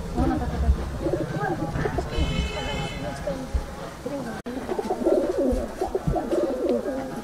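Pigeons in a loft coo in low murmuring phrases throughout, close by and steady, while someone talks over them.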